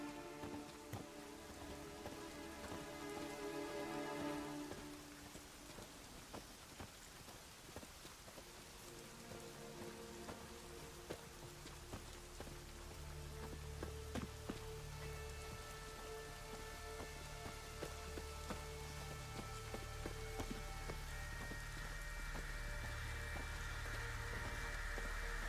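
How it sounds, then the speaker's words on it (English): Steady rain in the video game The Witcher 3: Wild Hunt patters on a hard surface, a dense continuous hiss of drops with scattered closer splashes throughout. "Looks like rain."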